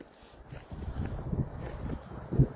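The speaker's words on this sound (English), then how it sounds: "It might be a bit windy, guys, because obviously I'm out of cover now." Low, blustery wind rumbles against the microphone outdoors in the snow beside a church, building gradually and ending in a sharp gust.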